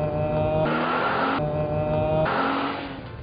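A 2010 Nissan Cube's zippy engine accelerates toward freeway speed, a steady drone climbing in pitch with shifts between gears, heard from inside the car at moderate level with no talking.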